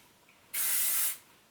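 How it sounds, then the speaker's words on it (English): Short burst of She's a Tease Volume Hairspray by Not Your Mother's, a single steady aerosol hiss lasting about half a second, close and fairly loud against a quiet room. "I'm going to do one more, and that's just this She's a Tease Volume Hairspray from Not Your Mother's"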